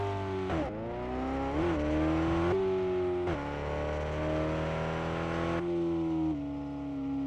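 Tow truck engine driving in the RevHead video game, a steady harmonic drone that rises and falls through gear changes, sustained and close with no talking.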